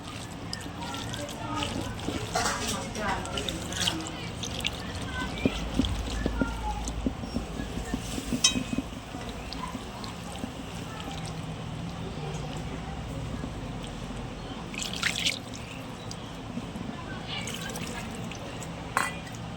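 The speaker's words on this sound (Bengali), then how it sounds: "এর মধ্যে আমি জল দিয়ে দেবো।" Water poured into a pan of fish roe on a gas stove, a steady trickling and splashing that rises and falls over several seconds, with faint clinks and a voice speaking in the background.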